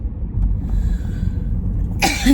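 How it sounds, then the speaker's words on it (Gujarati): A short, sharp cough bursts out near the end, following a steady low rumble like a vehicle interior in traffic. "આજે ઉધરસ જેવું આવે છે"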